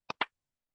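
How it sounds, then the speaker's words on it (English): Two sharp hand claps in quick succession, close and dry, followed by silence. "All right, last clap."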